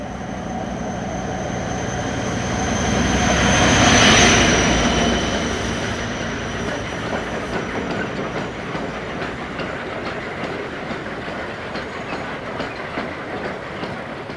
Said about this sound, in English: 56025 hauls a train of Plasmore concrete blocks from Heck to Bow